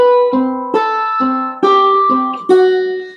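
Four-string cigar box guitar strummed in bar chords for a Beatles 'Here Comes the Sun' cover, six twangy plucked chords alternating between two shapes at an even, relaxed pace, close and loud with ringing sustain and no voice.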